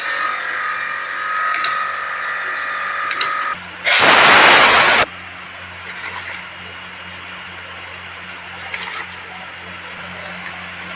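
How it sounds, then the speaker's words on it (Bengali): A sweet-shop stuffing machine works rajbhog balls with a steady mechanical whirr and faint rhythmic clatter, broken midway by a loud burst of hissing noise about a second long. "এই দেখুন মেশিনে কীভাবে স্টাফিং হচ্ছে"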